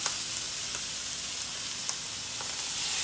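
Shrimp and pineapple fry together in a hot pan, giving a steady, close, bright sizzle that crackles evenly throughout with a few faint clicks and no talking.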